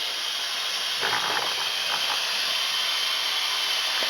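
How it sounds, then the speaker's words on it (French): A Cookeo multicooker releases its steam jet after cooking, giving a steady loud hiss that continues without break, with a brief rougher sputter near the start. "avant de relâcher la vapeur, le Cookéo émet un son pour pouvoir prévenir qu'on soit pas près du jet de vapeur"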